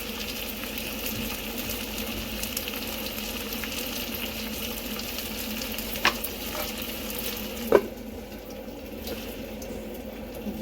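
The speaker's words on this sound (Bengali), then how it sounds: "এরপর এইটাকে কয়লাটাকে নিয়ে এতে রাখবেন, রেখে একটু উপর থেকে ঘি দিয়ে দেবেন।" Ghee poured over a hot piece of coal set inside a dish with chicken roast, giving a steady close sizzle and hiss with a couple of sharp crackles near the end, no voices.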